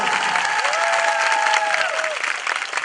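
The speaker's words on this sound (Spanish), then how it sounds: "¡Dámosle un aplauso!" An outdoor street theatre cabaret audience in a park applauds together, a loud, sustained wash of clapping from a large crowd with a voice calling out over it.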